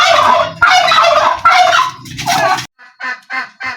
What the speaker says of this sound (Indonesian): Ini tempat makan kalkun ya